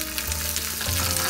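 Turkey keema ingredients sizzling and frying in a pan, a dense, steady crackle and hiss up close for a brief moment, with no voices.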